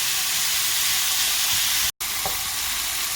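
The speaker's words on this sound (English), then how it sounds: "So now the meat is been cooking for some minutes with the onion and spices." Meat frying in a pan with onion and spices, a steady close sizzle with occasional stirring scrapes and a brief dropout midway.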